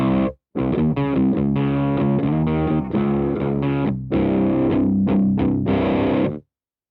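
Electric guitar played through a distortion pedal into a Fender Hot Rod amp, giving a loud crunchy tone: a run of chords and notes, some sustained and some clipped short, alone, ending abruptly in silence.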